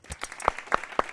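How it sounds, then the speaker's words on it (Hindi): A few sharp, separate hand claps sound close by, then a cluster of three louder claps at an even pace, with a short burst of quieter clapping at the start. "ठोको ताली।"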